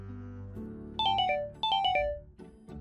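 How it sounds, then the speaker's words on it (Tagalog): A cellphone ringtone plays right beside a person who has just woken from a nap, a bright repeating melodic ring in two clear bursts over a soft low background hum, with no talking. "nagulat sa ingay ng cellphone ko"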